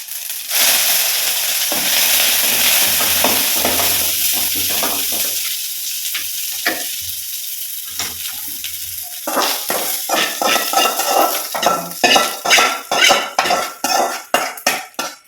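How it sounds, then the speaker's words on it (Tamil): Mustard seeds tempering in hot oil in a pan over a wood-fired stove, a loud steady sizzle that gives way to rapid crackling pops, with some utensil clatter, close by and no voices. "சூப்பராக தாளிச்சாச்சு."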